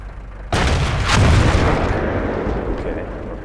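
A tank gun shell from World of Tanks slams into a house, a sudden loud boom with a crashing impact and a long rumbling, debris-filled decay.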